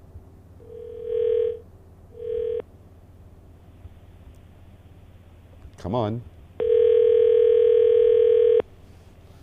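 An outgoing telephone call placed live during a Barbados morning radio show: short dial tones, then a long steady ringback tone, with a voice speaking briefly between them.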